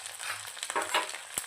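Chicken curry onions with Kashmiri red chili frying in hot oil, a soft steady sizzle with a few brief stirring scrapes and a sharp clink near the end, close and fairly quiet.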